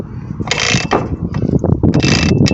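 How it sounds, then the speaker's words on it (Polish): Rapid mechanical ratcheting clicks from inside the front axle of a Ursus C-355 tractor, a dense rattling that comes in short bursts as the wheel is turned. "Słyszycie grzechotkę w środku."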